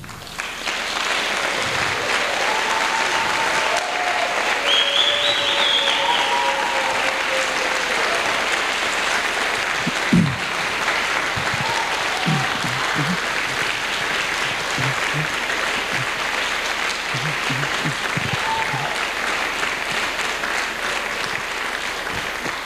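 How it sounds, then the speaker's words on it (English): Warm, sustained applause from a conference audience at the World Cleanup 2012 event, steady clapping continuing for over twenty seconds with a few louder claps near the middle. "Just stand up so we could give you a decent thank you applause."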